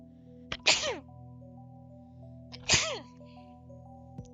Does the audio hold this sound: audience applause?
no